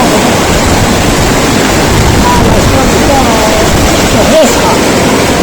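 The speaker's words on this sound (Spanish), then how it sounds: "El río. Se llama Río Grande de Vischongo." The Río Grande de Vischongo river in Vischongo rushes past in a loud, constant broadband roar of flowing water that fills the whole scene without a break.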